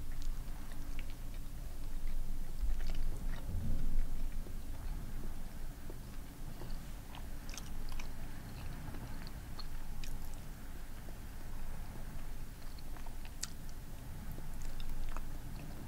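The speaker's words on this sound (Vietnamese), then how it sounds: "Cái này khi mà nhai á thì nó bể bể bể giống như là" Close, quiet chewing of cheese-grilled salmon and eggs, with soft irregular bites and mouth sounds repeating steadily throughout, no talking.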